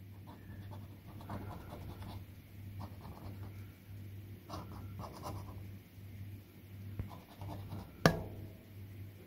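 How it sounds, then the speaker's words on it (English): Coin or fingernail scratching across a Cashword Tripler scratch card in quiet, soft irregular rasping strokes close by over a low steady hum, with a sharper tap near the end. "Just get this card scratched off."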